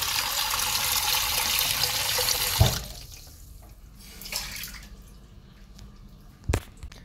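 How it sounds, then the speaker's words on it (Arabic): Water gushes loudly from a tap for a few seconds, then stops, leaving quiet room sounds with a couple of soft knocks. "هسه بس افتح حنفية المي يجي"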